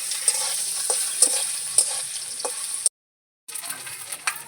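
Shredded coconut, bay leaf and dried chilli fry in hot oil with a steady crackling sizzle, punctuated by several sharper spatters and stirring scrapes, cutting out briefly near the end before resuming.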